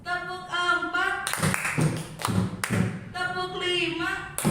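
Hands clap in quick counting bursts during a group clapping game at a school gathering, with several sharp claps clustered between stretches of a voice talking.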